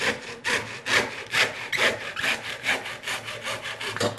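A hand saw rasps back and forth through a plastic bottle in a steady, rapid rhythm, close and fairly loud, with no voices.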